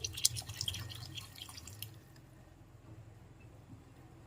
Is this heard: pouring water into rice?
yes